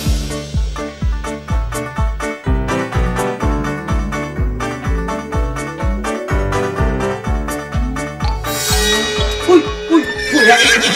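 A horse on a farm neighs and whinnies loudly and up close in a long, repeated series of harmonic calls, with some clip-clop of hooves and a brighter burst of noise near the end.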